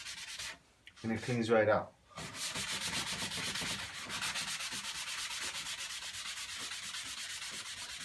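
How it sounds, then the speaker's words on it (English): Sand block scrubbing across Marmorino Venetian plaster with a metallic stencil finish, a steady rhythmic rasping that runs for several seconds after a short spoken remark. "We get a little sand block."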